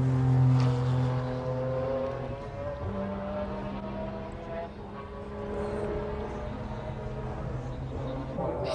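Race cars lapping the 1996 Le Mans 24 Hours at night, with a Team Yost car chasing its sister car: a steady, fairly loud engine drone with sustained tonal harmonics that shift slightly in pitch, continuous throughout.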